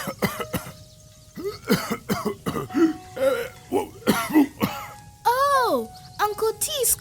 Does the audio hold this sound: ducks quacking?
no